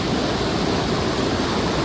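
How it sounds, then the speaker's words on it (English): Luxembourg's biggest waterfall roars with a loud, dense, steady rush of falling water, broadband and unbroken, heard close up with no voices. "This is the biggest waterfall in Luxembourg."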